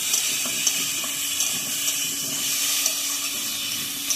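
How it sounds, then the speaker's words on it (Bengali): Water pours into a pan holding crushed ginger for a Bengali fish curry, making a steady gushing, splashing flow that runs continuously at moderate loudness. "আদাটাকে একটু মেরে নিয়ে আমি জল দিয়ে দেবো"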